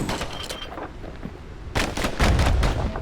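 Twin slinger pistols fire in the action game Bastion as rapid, punchy bursts of gunshots that start partway through and grow louder and denser toward the end, over a low rumbling backdrop.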